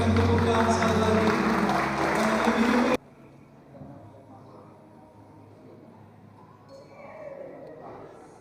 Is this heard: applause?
yes